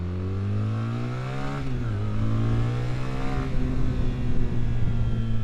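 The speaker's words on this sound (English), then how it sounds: "completely different kind of engine. So you may find out it's not as smooth, it's a bit kind of mechanical," A BMW R 1300 GS motorcycle engine running, mechanical, noisy and vibey: a steady, close droning hum with a clattery edge, pitch dipping slightly then holding as it blips and settles, no talking.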